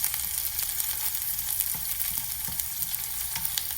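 Chopped onion and green chili frying in a pan give a close, steady crackling sizzle with occasional light spatula scrapes, no voices.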